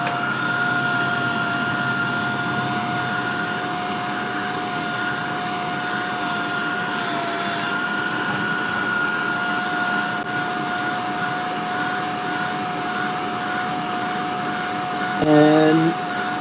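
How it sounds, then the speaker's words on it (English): A hair dryer drying paint on a fishing lure blows in a steady, even whining drone for about sixteen seconds, unbroken and close, with a brief knock just before it ends. "Means I gotta grab the hair dryer."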